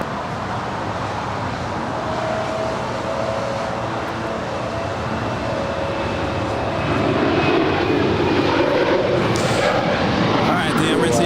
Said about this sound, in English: A380 now pulling into the gates on the southwest corner of Tom Bradley.